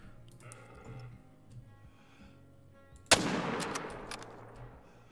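A single sharp rifle shot rings out in a hunting video game on a Cuatro Colinas map, loud and close, after a few seconds of quiet ambient rustling, its crack trailing into a decaying echo.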